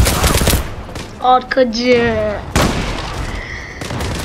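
Bursts of M4A1 rifle gunfire in the online shooter Zula, sharp volleys near the start and again midway, with a player talking over the action.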